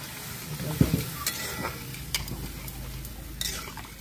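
Water is poured into a pan of curry cooking with papaya and chui stalks, setting off a soft, steady sizzle with a few knocks of a spoon against the pan, close and fairly quiet.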